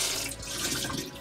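Water gushes from a tap in an off-grid RV or van conversion water system fed by a pump, a steady, close, full-bodied rush that runs the whole time without pause.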